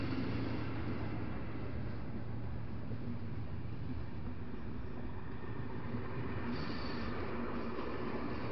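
An express passenger train passes Balatonalmádi railway station at moderate distance, a continuous broad roar of wheels on rails with a faint high squeal near the end.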